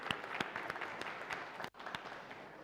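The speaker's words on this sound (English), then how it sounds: "We should give it a round of applause." Audience applause at a launch event, a fairly faint, even patter of clapping from a room of people, briefly dipping before continuing.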